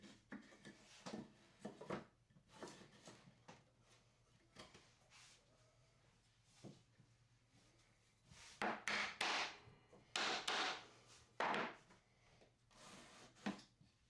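A glued wooden part hammered into a dado: several dull wooden knocks and thumps, close by, in irregular bursts, with scraping and rubbing in between.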